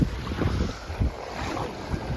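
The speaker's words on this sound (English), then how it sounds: "the Yellowstone River is absolutely ripping right now" The flooding Yellowstone River near Billings, Montana rushes in a steady, dense roar of churning water, mixed with gusty wind buffeting the microphone.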